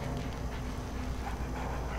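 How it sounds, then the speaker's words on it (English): A dog whimpers and yips softly in the video game Mad Max, set against a dense, constant game soundscape with no talking. "I cannot believe we found the dog."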